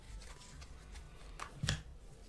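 Quiet riffling and soft slaps of tarot cards being shuffled, with a sharper snap near the end.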